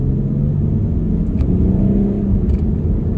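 A Land Rover Range Rover SUV accelerates from about 8 to 45 miles per hour, a loud, close in-cabin rumble and whir building steadily, with a couple of faint clicks.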